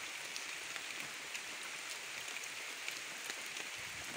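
Steady rain falls and patters on surfaces outdoors, a continuous, even hiss with no voices.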